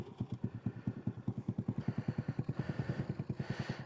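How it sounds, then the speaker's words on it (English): A Honda Navi motorcycle fitted with a Hot Lap exhaust and no silencer idles close by, its steady, rapid, even pulses loud and throaty for a few seconds with no talking. "There it is, idling. This is without the silencer installed."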